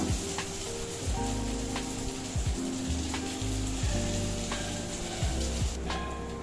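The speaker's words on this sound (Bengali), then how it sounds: "আলু পেঁপে দিয়ে একসাথে এবার ভাজবো" Potato and papaya pieces fry together in a pan with a steady, moderate sizzle that continues throughout, over a low humming drone and a few soft knocks.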